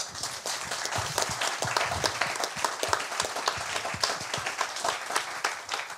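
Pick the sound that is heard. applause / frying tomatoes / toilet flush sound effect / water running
applause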